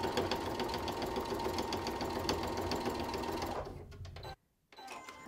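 A sewing machine stitches in a fast, steady mechanical rattle, close and moderately loud, for about four seconds. It then slows and stops, with a short silence and a brief restart at the end.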